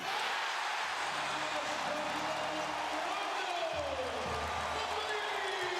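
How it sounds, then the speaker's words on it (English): Arena crowd at a 2009 NBA playoff game between the Bulls and Celtics in Boston, a broad sustained roar and cheer rising steadily under a commentator's voice. "Here comes the crowd, Dan."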